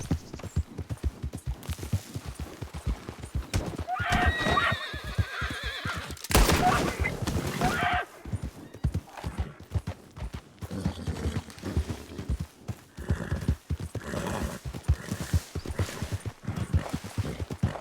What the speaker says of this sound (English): Wild horses make me nervous sometimes because I hear the hooves.